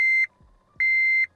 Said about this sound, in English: Sorry for the beeping, because the dang key.